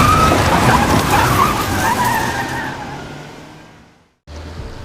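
A car pulls away with its tyres skidding and screeching loudly up close, then the sound fades as it drives off before cutting out abruptly.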